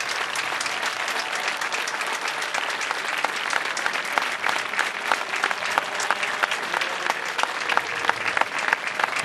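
A large audience at the final of an international pétanque competition applauds loudly and continuously, with thick, rapid clapping that keeps up strongly for several seconds.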